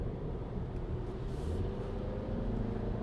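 A 2024 Audi Q3 40 TFSI accelerating on throttle, heard from inside the cabin as a steady, low engine and road drone that holds even throughout, with no talk.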